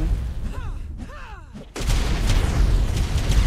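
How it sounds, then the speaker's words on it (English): Cluster grenades bursting in the game ARK, a series of booming blasts with whistling debris, loud and close, rolling into a dense continuous rumble of explosions. "the guy started launching literal cluster grenades at me"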